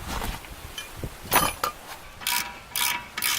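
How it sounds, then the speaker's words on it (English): A hand ratchet with a 1/2 inch socket clicks on a rear brake caliper bolt of a 2001 VW Jetta, several short bursts of rapid ratcheting close by with brief gaps between strokes. "Then get your ratchet, your 1/2" socket for the top"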